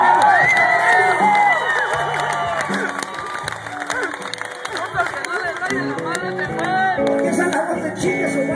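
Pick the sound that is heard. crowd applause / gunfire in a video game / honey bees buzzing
crowd applause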